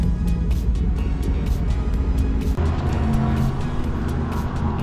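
A car drives along a road near a NASCAR experience venue, a steady engine and road rumble heard from inside the vehicle, continuous and fairly loud, with brief clicks over it.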